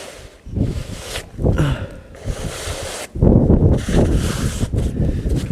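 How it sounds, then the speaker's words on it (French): Wind gusts buffet the microphone outdoors beside a truck, making rumbling bursts that fade briefly and then return stronger, with no speech. "je me protège un peu du vent"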